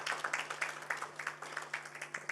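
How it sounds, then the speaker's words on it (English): An audience at an academy of sciences launch event gives a round of applause, rhythmic clapping from a modest crowd heard faintly and at some distance, with a steady low hum underneath. "Can we give Dr. Masego another huge round of applause?"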